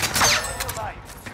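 Video game firefight with a burst of rapid gunfire crackling close by, dense and sustained over a second, while players shout in the background.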